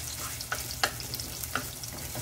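Sliced onions fry on high heat in a pan for a creamy chicken dish, giving a steady sizzle broken by a few sharp scrapes and stirring clatters, up close and without voices.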